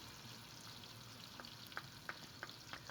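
Onions frying with ginger and garlic for Afghani aloo gosht, a soft continuous sizzle with a few sharp stirring clicks and taps, heard close and quiet with no talking.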